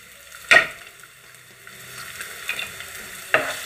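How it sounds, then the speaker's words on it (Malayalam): Onion sautéing in hot oil with cumin seeds, a soft close sizzle broken by two sharp metal utensil knocks and light stirring, with no voices. "നല്ലതുപോലെ വഴണ്ട് ഒരു ഗോൾഡൻ ബ്രൗൺ കളർ ആവുന്നത് വരെ സവാള വഴറ്റി കൊടുക്കണം"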